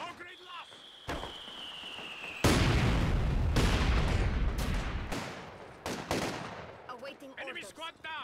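Mortars and machine guns fire across a Company of Heroes 2 battlefield, with sharp automatic bursts, heavy booming impacts and a dense sustained barrage, while a commentator talks over the combat.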